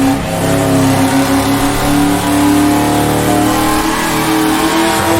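A racing car engine in rFactor2 on the Dundrod road circuit revs hard and close, with a steady high drone. The pitch dips and wavers as the throttle is worked, and the note rises again toward the end.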